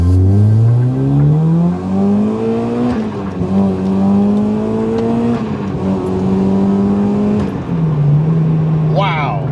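A supercharged Honda Accord Euro R with a K24 engine and a centrifugal supercharger accelerates hard, its engine note climbing in pitch through several gears with brief dips at each shift, loud and continuous from inside the car.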